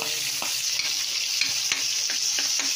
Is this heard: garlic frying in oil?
yes